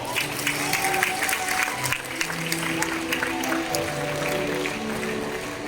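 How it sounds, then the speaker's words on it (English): An audience at a bird show featuring raptors and scavengers claps steadily, the applause even and moderately close, with a voice speaking over it. "applause"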